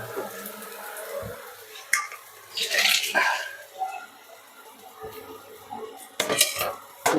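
Cooked food being drained in a home kitchen: clanking pots and utensils, pouring and splashing water in short bursts, with brief talk in between.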